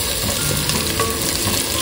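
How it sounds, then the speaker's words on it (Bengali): Onion frying in oil in a wok with dried red chillies, garam masala and bay leaves, giving a steady, close, dense sizzle with no talking. "কড়াইয়ে তেলে শুকনো লঙ্কা, গরম মশলা, তেজপাতা ফোড়ন দিয়ে দিয়েছি। এবার পেঁয়াজটা দিয়ে দেবো।"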